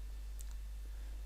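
One soft computer mouse click, brief and close against a low steady hum.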